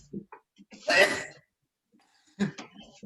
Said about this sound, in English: Oh my gosh, so a lot of coughing.